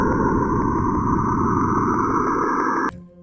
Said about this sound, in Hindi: इन रेडियो एमिशंस को साउंड वेव्स में बदलने पर हमें सैटर्न की जो आवाज मिलती है